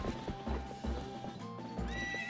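A horse in the video game Legend of Zelda Twilight Princess clip-clops with steady hooves, then lets out a clear neigh near the end, close and quiet.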